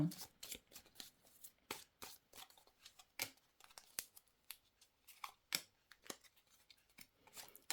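Oracle cards are shuffled by hand for a reading, giving quick, close, crisp riffling slaps in irregular bursts with short pauses between them, quiet overall.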